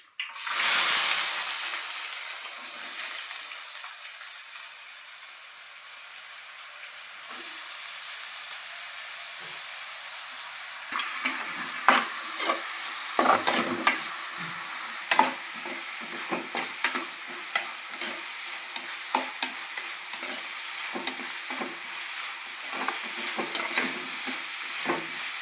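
Sliced onions sizzle in hot oil with cinnamon, cardamom and cloves as the base for mutton curry. A steady frying hiss runs throughout, and from midway a spoon stirs and scrapes the pan in irregular strokes.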